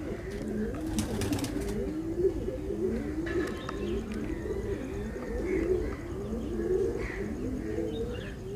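Indian high-flyer pigeons cooing steadily in a loft or yard, a dense overlapping chorus of low burbling coos close by, with a few faint chirps above.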